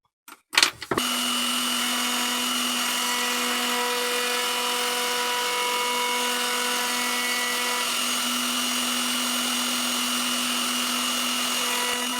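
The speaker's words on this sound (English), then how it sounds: "So I've got a top bearing bit, which I'm going to run around the edge of this to trim it down, and also on the heel." A router fitted with a top bearing bit trims the edge and heel of a wooden guitar neck, spinning up after a few brief knocks into a loud, steady high-pitched whine that holds without a break.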